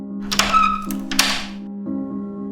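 A door opens as a sound effect in a horror story narration, heard as a couple of hollow thunks and a creaky scrape over a low, sustained tonal drone.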